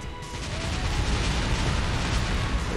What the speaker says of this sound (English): A tower. It's being destroyed.